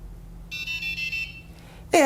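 A homemade board game timer built on an Arduino Uno, with LEDs and an LCD, sounds its buzzer as time runs out: a steady high electronic tone holding for about a second over a low hum, followed by a sharp louder burst at the end.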